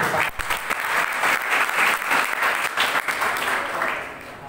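Incoming students of Universitas Islam Madura clap together at a university entrance guidance event, a dense burst of applause lasting a few seconds with no speech over it.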